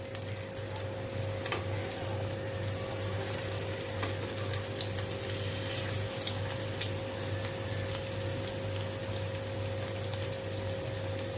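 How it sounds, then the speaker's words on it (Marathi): Soya tikki frying in a pan, a steady close sizzle with fine crackle holding evenly throughout, no voices over it. "तर दुसऱ्या साईडने पण आपल्याला 2 मिनिटं चांगले फ्राय करून घ्यायचे"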